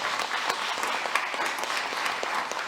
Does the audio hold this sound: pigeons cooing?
no